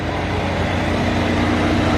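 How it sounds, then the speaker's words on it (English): Mercedes-AMG Project One hypercar with a Formula One engine running just after start-up, a loud, steady low engine drone close by, no talk. "Take a listen to that Formula One engine."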